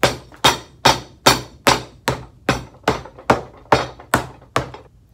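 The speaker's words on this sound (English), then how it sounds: "my French hammer." A French hammer pounds a leather moccasin boot on a shoe jack, eleven sharp, evenly spaced strikes at about two per second, each a close, loud knock that decays quickly, with no talking.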